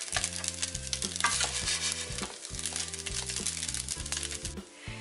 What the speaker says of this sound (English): So it's been cooking on the stove for about 15 minutes at medium heat